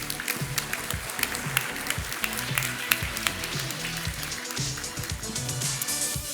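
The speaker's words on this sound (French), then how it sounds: "On peut les applaudir." An audience applauding at a master's degree graduation ceremony as people come onto the stage, with sustained, dense clapping from a large room and scattered sharper claps and thumps.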